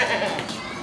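A young goat, freshly grown its eight adult teeth, bleats at a livestock market, a short close call over a busy noisy background.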